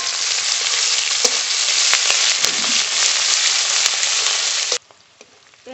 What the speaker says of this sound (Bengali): পেঁয়াজ একটু ভেজে নিয়েছি, খুব বেশি ভাজবো না।